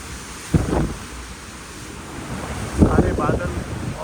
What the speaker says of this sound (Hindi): ये शिप आगे बढ़ते हुए, पानी काटते हुए, ठंडी ठंडी हवा कनाडा के कोस्ट पे।